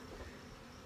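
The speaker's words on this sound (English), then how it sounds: "this is about 3 frames of bees" Honey bees buzz around an opened three-frame nucleus hive in summer, a soft, steady, continuous hum that stays faint and even throughout, with no voices.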